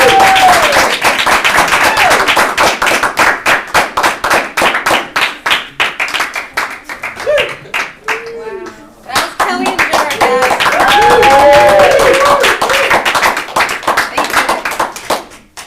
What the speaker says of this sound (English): thanks for all the applause